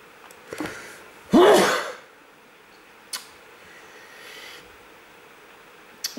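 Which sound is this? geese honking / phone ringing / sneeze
sneeze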